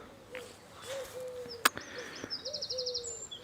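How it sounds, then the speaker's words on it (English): Small birds, wrens among them, sing and call outdoors near a grassy pathway, giving short chirps and brief whistled phrases at moderate distance over a quiet background, with a sharp click partway through. "So there's wrens everywhere."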